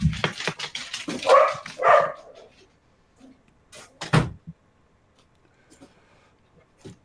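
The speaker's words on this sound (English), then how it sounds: "That was Archer barking" A pet dog barks indoors during a casual live chat, with a rapid cluster of loud, near barks followed by a single sharp bark a couple of seconds later and quieter household noises.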